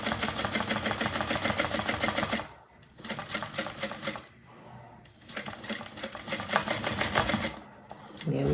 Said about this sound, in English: I'm sewing from the side